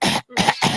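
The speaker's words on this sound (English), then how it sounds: "Coughing up a fucking fur ball over there" A person coughs in three harsh bursts separated by brief gaps, close and fairly loud, with no talking.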